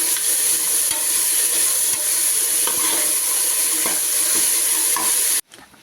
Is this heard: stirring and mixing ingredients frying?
yes